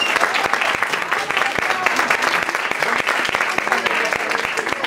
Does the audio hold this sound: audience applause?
yes